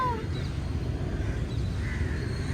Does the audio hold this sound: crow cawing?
yes